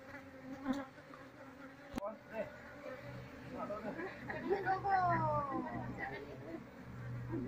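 Wild honeybees buzz nearby in a steady, wavering drone, with one sharp click early on and faint murmuring in the background.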